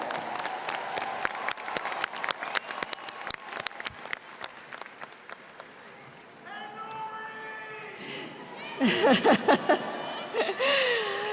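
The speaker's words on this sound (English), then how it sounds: "Let's give a round of applause to the Thomas S. Wooten High School drumline from Rockville, Maryland." Graduation commencement crowd applauding a high school drumline, beginning with scattered, crisp individual claps that thin out, then giving way to loud whoops, cheers and whistles with voices.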